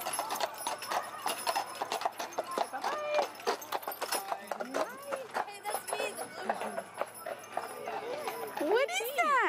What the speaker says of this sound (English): Oh, here come horses.